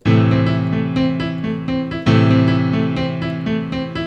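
Piano plays a syncopated Latin-style rhythm over sustained low bass notes, chords restruck in a steady repeating pattern, clear and unaccompanied.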